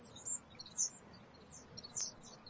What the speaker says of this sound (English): A little starling on the roof. Look at that. Cheeky. Something's tweeting away. squawking up here.